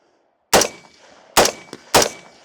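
A PSA Sabre rifle fired at targets, three sharp loud shots spaced irregularly with a faint metallic ping from a struck steel target between the last two and short ringing decays, outdoors with no talking.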